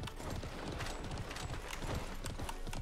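Horse hooves clip-clop in the video game Alicia Online, a steady quick series of close, soft hoof beats continuing throughout with no talk over them.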